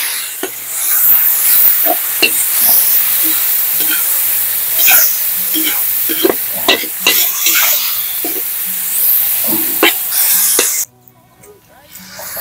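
Carabao meat sautéed in a pan with tuba vinegar for pigar-pigar, a loud continuous sizzle broken by repeated scraping stirs, ending abruptly in near quiet, with someone talking over it.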